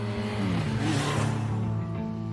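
Motorbike engine gliding through city streets at night, a steady close throaty drone with shifting pitch, loud and continuous with no speech.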